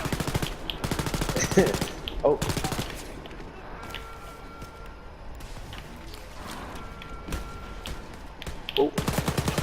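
Rapid bursts of laser cannon fire in the shooter game Wolfenstein: Youngblood, loud and repeating in long volleys with short gaps, a brief exclamation from a player in between.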